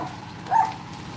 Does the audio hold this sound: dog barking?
yes